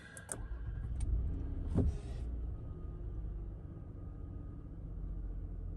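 A Lexus ES350 is started after a maintenance light reset. A few sharp clicks come first, then a brief starter burst, and then a low, steady engine idle rumble continues close by, with no talk.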